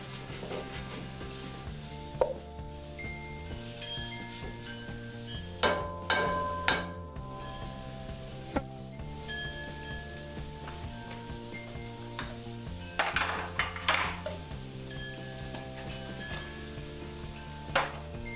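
Garlic cooks in a Dutch oven for beef stroganoff, making a soft sizzle that flares into brief louder bursts of frying now and then, under steady background music.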